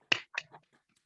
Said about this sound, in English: and then applause